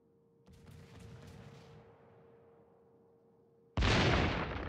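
Warship naval guns firing in the game World of Warships: a booming salvo with a long rumbling decay under a steady tone, then a second loud, sharp blast near the end.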